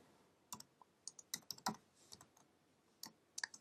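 Bursts of keyboard typing, irregular clusters of crisp key clicks close by, with short pauses between groups and no speech.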